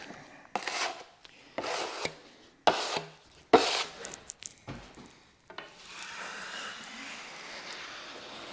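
A drywall knife scrapes excess joint compound off a wall in a cabin, giving a series of close, loud rasping strokes followed by a softer, steady scraping.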